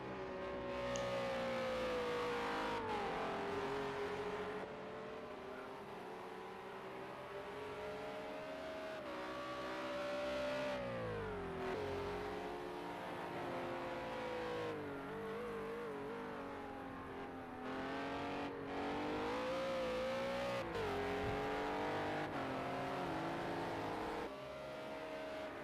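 Race car engine on a hot lap in a sim racing time trial, a continuous high engine note that rises and drops repeatedly through gear shifts and braking zones, fairly quiet and without talk.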